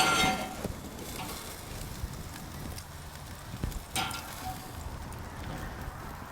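Ribeye caps sizzle and crackle on a Slow 'N Sear Deluxe kettle grill, a steady faint hiss with occasional sharper pops and handling clatter outdoors.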